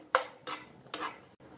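Nuts roast in ghee in a pan for bottle gourd halwa, with three bursts of stirring scrapes and a light sizzle between them, close and fairly quiet.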